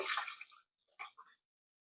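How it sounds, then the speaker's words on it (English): Water pours into a mixing bowl for soft sourdough discard loaf dough, a dense splashing stream for about half a second that tapers off, followed by a few faint later trickles and drips, close and quiet. "we're going to go ahead and pour our water in"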